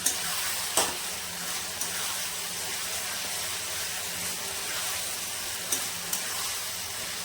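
Green peas frying with spices in a pan, a continuous close sizzle and hiss with a few sharp clacks of stirring scattered through, steady and without talk.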